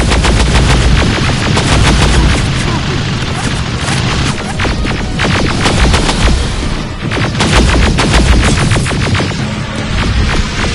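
Rapid gunfire bursts and heavy impacts crackle through a Terminator Resistance video game battle, dense repeated shots with booming hits layered over constant loud background action.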